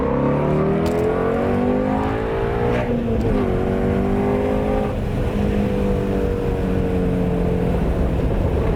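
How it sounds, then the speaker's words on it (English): A Ford Shelby GT350 V8 on its stock exhaust accelerates hard in second gear, its loud exhaust note rising steadily in pitch with a deep, raspy roar and no talking. "One of the last stock exhaust pulls in the Shelby, second gear."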